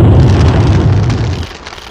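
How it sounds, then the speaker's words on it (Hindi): A heavy, rumbling cartoon explosion of a petrol tanker that fills the low end and then decays into a crackling roar, loud and close. "इतने बड़े धमाके की वजह से पूरा जंगल आग की लपेट में आ गया था"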